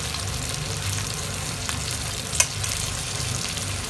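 Steady crackling sizzle of garlic frying in a pan, with a brief sharper pop partway through, close and continuous.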